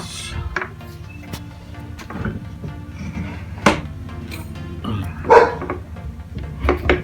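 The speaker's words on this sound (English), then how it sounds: "Dog barking." A dog barks a few times in the distance, short scattered yaps over the clatter and rumble of a workshop around a step van being converted into a food truck.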